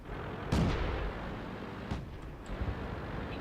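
Enemy artillery in World of Tanks lands with a heavy boom, followed by a couple of smaller thuds and pops over steady battle ambience.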